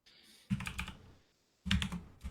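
Typing on a computer keyboard comes in two quick bursts of rapid, close key clatter, separated by a brief pause, with no talking.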